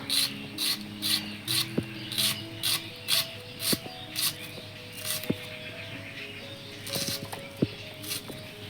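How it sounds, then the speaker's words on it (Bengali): Onions and spices being ground into a paste for gravy make a rhythmic, repeated rubbing scrape, regular strokes for several seconds that turn more irregular, with occasional sharp clicks. "বেটে গ্রেভি করার জন্য দিয়ে দেব এই পেঁয়াজগুলো"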